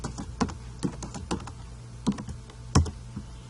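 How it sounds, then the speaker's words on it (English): Keys tapped on a computer keyboard while entering text into a Prezi presentation, sounding as irregular, close, fairly crisp clicks in short bursts with one heavier keystroke near the end, no voices. "So I'm going to type in Washington,"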